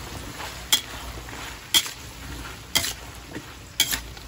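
Chicken sautéing in a pan with broccoli, chayote and carrots makes a soft sizzle, cut by four evenly spaced sharp clinks of a utensil against the pan.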